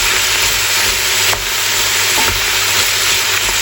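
Ground beef frying in a pan over medium-low heat for chili con carne, a loud continuous sizzle with occasional scraping taps as the meat is broken up.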